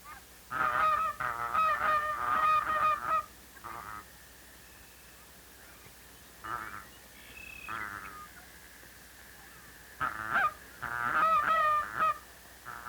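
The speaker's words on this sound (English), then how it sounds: "Mr. Canada Goose is restive. Mother Goose is nestling the eggs, and they have many quiet chats together" Canada geese honk near their nest in loud, rapid bursts of repeated calls separated by quieter gaps, with a few softer honks in between.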